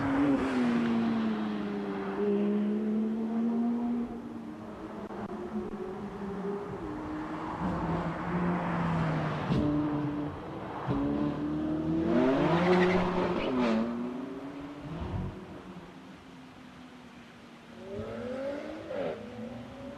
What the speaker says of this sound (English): First of the Ferraris, the Ferrari 458 Italia in the hands of Chris, Robert alongside him in the passenger seat.